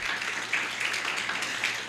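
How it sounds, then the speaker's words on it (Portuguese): Audience at an HR and legal conference applauding, a steady dense wash of many hands clapping throughout, moderately loud with no speech. "então, palmas para vocês."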